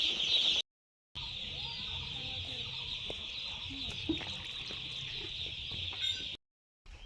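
Young broiler chicks at a poultry farm brooding setup during the rainy season peep and cluck in a dense, continuous high-pitched chorus, steady and close, with brief gaps of silence.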